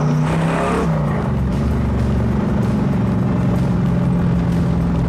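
A car pulls away on a light touch of throttle, its engine rumbling close and loud with a steady mid-low drone that rises gently as it gets under way.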